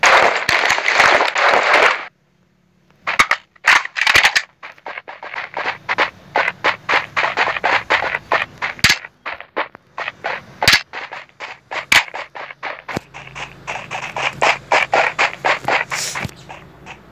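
Rapid gunfire in the mobile battle royale game Rules of Survival, long bursts of sharp shots in irregular volleys with brief pauses, loud and close with no talking.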